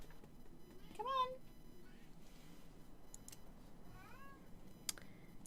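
A kitten meows softly a few times, with rising and falling cries spaced a few seconds apart, faint and close against a quiet room background.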